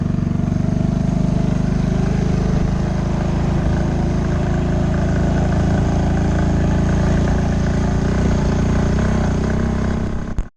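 A small scooter engine runs steadily during a ride along roads in Mexico, a constant loud droning hum with wind rush and no talk, cutting off abruptly at the end.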